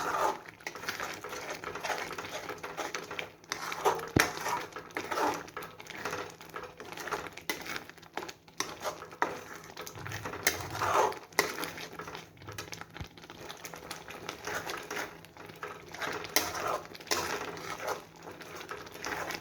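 A spoon scrapes and stirs a thickening ginger sweet mixture with licorice root powder in a pan at home, giving steady soft clinks and scraping strokes throughout, close and moderately quiet.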